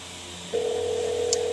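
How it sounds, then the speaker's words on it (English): A phone call placed through the Ford MyFord Touch in-car system: a brief tone gives way to a steady, clear ringback tone that holds alone at moderate volume in a quiet cabin. "Calling Michaels at work"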